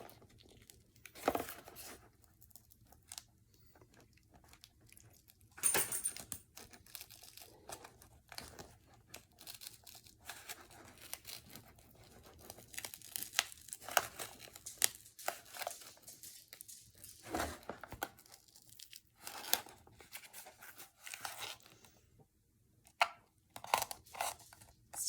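A glued-down page pulled gently from a book, heard as repeated close, dry tearing and crinkling paper rips in uneven bursts, quiet and without talk.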